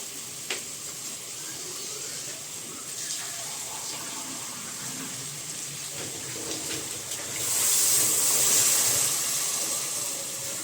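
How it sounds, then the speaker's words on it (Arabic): Water is poured into a cooking pan for a stovetop rice-pastry dish with soup cubes, making a steady hiss and splash that grows louder and brighter toward the end, with no one talking. "جيب ميه بقى."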